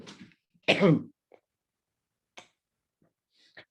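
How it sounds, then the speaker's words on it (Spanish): A single sharp cough from a speaker during a talk on stress management near the start, followed by faint scattered clicks and small mouth sounds in an otherwise quiet room. "Dichosa tos"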